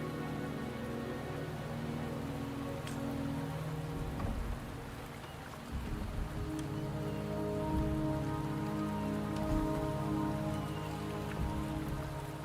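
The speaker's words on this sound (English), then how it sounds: "The rain is subsiding, and the sky will soon clear." Rain pours in the video game Wuthering Waves, a constant close hiss of drops over a low tonal hum, with a few brief louder swells.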